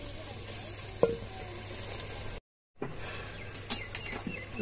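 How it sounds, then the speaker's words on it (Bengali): Hilsa fish heads frying in a cooked-down spice paste, a soft steady sizzle with occasional pops and stirring clicks, briefly cut off midway. "আমি এখন দিয়ে দেবো ইলিশ মাছের মাথা। এটা আমি কষিয়ে রান্না করব।"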